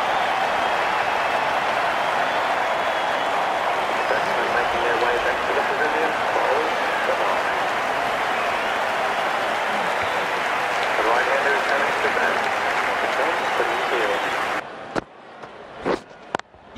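Cricket crowd applause in the video game Cricket 19 makes a dense, steady wash of clapping and crowd noise that holds loud for about fourteen seconds before cutting off into a few sharp sounds, with commentary voices over it.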